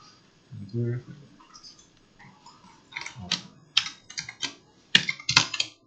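Computer keyboard keys pressed for Shift, Home, copy and paste, heard as several quick clusters of crisp clicks in the second half after a brief voice at the start.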